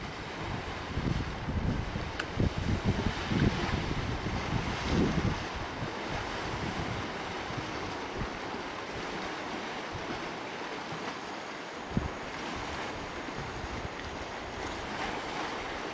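Bura wind blowing by the sea near Baška, gusting strongly against the microphone over steady surf and waves; the roar is heavier in the first seconds, then settles into a constant windy rush with one sharp bump.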